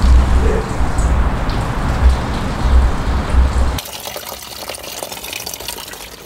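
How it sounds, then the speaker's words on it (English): Coolant splashing and gushing loudly from a pulled hose on a BMW F30 328i during a coolant flush, a dense watery spray for nearly four seconds before dropping to a fainter trickle. "I pulled the whole pipe out and I got coolant all over myself"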